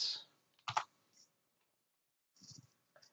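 A few scattered computer mouse clicks and small taps sound sharp and close on a Windows 10 computer, separated by quiet gaps, with a faint soft rustle near the start.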